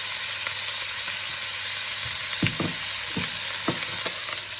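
Chopped onion tipped into hot garlic butter sizzles steadily in a frying pan, with a few sharp stirring scrapes and clicks of a utensil over the constant loud fry.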